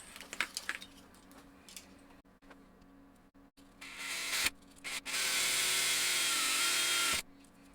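A power drill whirs in short bursts, then bites into plastic with a long, loud, steady grinding whine before cutting off abruptly.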